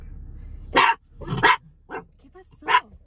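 A pet dog barks sharply and close by, giving four loud barks spaced unevenly over a few seconds with a faint yip between them, alone in otherwise quiet surroundings.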